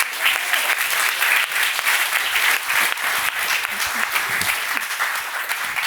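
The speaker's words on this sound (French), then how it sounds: "On peut vous applaudir bien fort." A conference audience breaks into sustained, dense applause after a talk, loud and even for the whole stretch.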